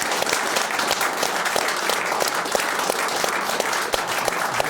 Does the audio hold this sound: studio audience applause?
yes